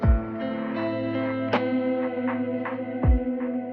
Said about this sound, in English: It's just a modulated reverb.